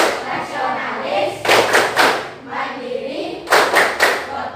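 Rhythmic classroom group clapping for the Tepuk PPK cheer, bursts of claps in patterned groups, mixed with children's voices chanting between them.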